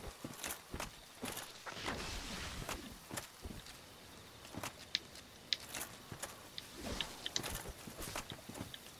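Footsteps in Dark Souls, a run of soft, uneven thuds and clicks spread across the clip at moderate distance, with no talking.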